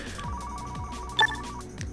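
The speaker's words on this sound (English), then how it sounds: "Oh, phone is ringing." A phone rings in the Car Mechanic Simulator 2015 video game, a steady electronic ringtone tone with a brief brighter chirp midway, over a low rhythmic background loop.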